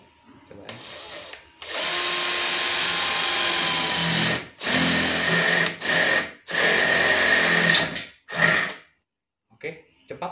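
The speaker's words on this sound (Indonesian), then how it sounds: "Mata bor besi ya, mode drilling 9 mm." A cordless drill (NRT PRO DC340) with a 9 mm steel bit in drilling mode whines loudly in several long bursts with short gaps, then a few brief final spurts before stopping.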